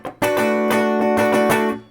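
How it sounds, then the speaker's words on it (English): Ernie Ball St. Vincent electric guitar played dry and direct with no effects, a few loud strummed chords with clear attacks in a rhythmic pattern, ringing bright and close, then cut off. "That is the sound of a direct and electric guitar."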